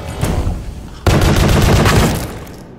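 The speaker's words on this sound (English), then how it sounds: "I also have this gun, so if they push me, I just hold trigger and they die." Sustained automatic gunfire in the video game Pony Factory, loud and close: scattered shots, then from about one second a continuous rapid burst that tapers off, no talk.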